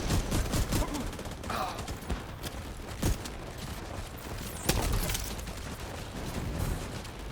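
Heavy video game gunfire and booming explosions, a dense, loud, continuous barrage with sharper blasts standing out at intervals throughout.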